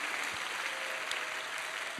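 A seated audience at a Christian summer camp lecture on Korean church history claps in a steady, dense wash that holds at an even level, with no voices over it.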